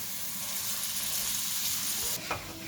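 Vegetables frying in a pan give a steady close sizzle with soft stirring scrapes, a brief clatter near the end.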